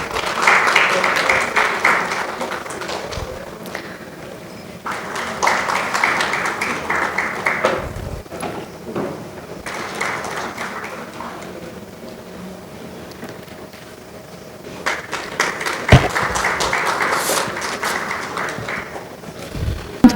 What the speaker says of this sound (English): A big round of applause from the audience.